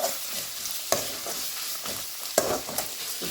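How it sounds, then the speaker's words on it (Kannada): Ginger and spices frying in a hot pan with ghee for ghee rice, a steady sizzle broken by a few sharp stirring clacks of the spoon against the pan, close and fairly loud, with no talking. "ಇವಾಗ ಶುಂಠಿ ಹಾಕಿದ್ದೀನಿ. ಇದನ್ನು ಫ್ರೈ ಮಾಡೋಣ."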